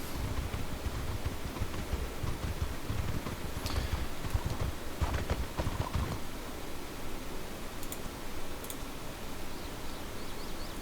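Desert horse hooves in the video game Mortal Online, a few soft clopping steps in the middle of a constant windy, hissing background, faint and without voices.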